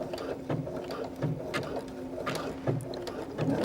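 A sewing machine sews a blanket stitch at width setting 4, giving a steady, quiet mechanical whirring with evenly spaced rhythmic thumps from the needle, close up with no voices.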